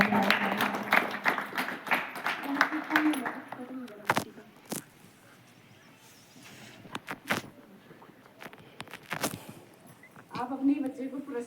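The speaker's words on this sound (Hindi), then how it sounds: "जोरदार तालियां बजाने में आप कंजूसी न करें, तालियां बजती रहनी चाहिए।" Audience at a school report card distribution ceremony breaks into applause, a dense burst of clapping in the opening seconds, fading to sparse scattered claps in the middle, with a fresh round of clapping rising at the end.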